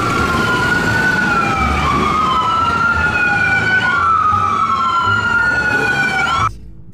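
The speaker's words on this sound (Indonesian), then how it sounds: "Kita menemukan ambulans." A loud ambulance siren wails close by, its pitch sweeping up and down repeatedly before cutting off abruptly near the end.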